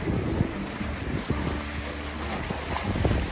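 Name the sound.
wind while sailing a boat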